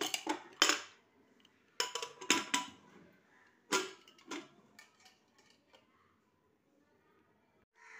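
A spoon clanks against a pot as butter is stirred into a vegetable and chicken soup, then the lid is set on. Sharp metallic clinks come in close bursts and fade to near quiet.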